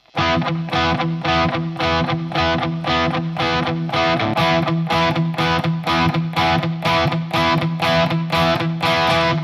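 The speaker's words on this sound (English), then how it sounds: "they palm mute the lowest note, and then they let the two higher notes kind of ring out" Distorted electric guitar power chords pulse in a steady, chugging rhythm, each stroke tight and palm-muted, repeating evenly and loudly throughout.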